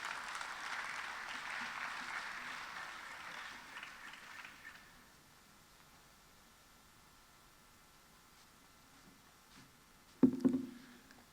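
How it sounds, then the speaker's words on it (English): An audience at a national cybersecurity challenge event applauding, a broad, moderately loud clapping that holds for a few seconds and then fades out, leaving near quiet before a short burst of close handling noise. "A round of applause for him, please."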